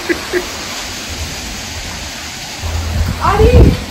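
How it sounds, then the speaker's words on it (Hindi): Rain and wind blow past a home, a steady noisy hiss throughout, with a voice speaking briefly near the end. "हवा के साथ साथ बारिश, हवा चल रहा है ना"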